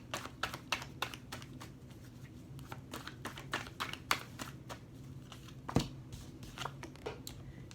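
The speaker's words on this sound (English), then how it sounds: "I'm going to shuffle this 3 times." Tarot cards are shuffled by hand, producing quiet bursts of crisp riffling and flicking clicks that repeat irregularly, close by in a quiet room.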